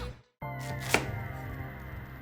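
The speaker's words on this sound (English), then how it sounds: "we're going to grab our yummy cabbages and we're going to chop them up nice" Knife slicing through half a head of cabbage on a board, a short run of close, crisp cuts with one sharper thunk, no talking.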